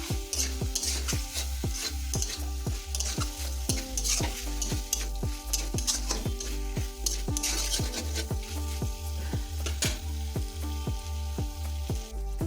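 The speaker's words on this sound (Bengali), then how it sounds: "এটাকে আমরা এখন মিনিট 5 ধরে লো ফ্লেমে কষাতে থাকবো" Pointed gourd (potol) stir-fried in spices on low flame for patal posto, a constant close sizzle with rhythmic spatula scrapes and taps against the pan, repeated steadily, no talking.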